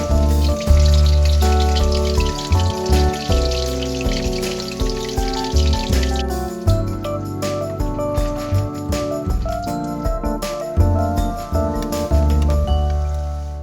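Ukoy, Filipino seafood fritters, frying in oil, a continuous sizzle and crackle under background music with occasional clinks of utensils.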